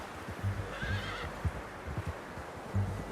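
A horse in Red Dead Redemption 2 gives a short, clear whinny over steady clip-clop hoofbeats, fairly quiet and close, with no talking.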